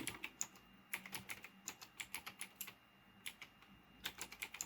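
Typing on a computer keyboard with a worn-off key, a close run of quick, irregular clicks and taps in bursts, with no voices.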